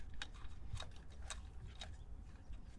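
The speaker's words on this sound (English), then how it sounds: "my T20 is going in. I'm gonna hand tighten it first" A T20 Torx screw hand-tightened with a screwdriver while fitting an M Performance steering wheel to a BMW E9X 335i, heard as faint, close, irregular ratcheting clicks repeating over a quiet background.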